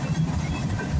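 A northbound CSX freight train rolls past with black tank cars, giving a brief, dense rumble with faint rhythmic wheel clatter, steady and fairly close, with no talk.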